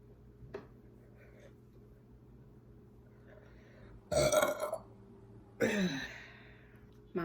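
A person lets out two loud, drawn-out soda burps during a lunch break, one around the middle and another near the end, alone over a faint steady room hum with a small click and brief soft noises earlier.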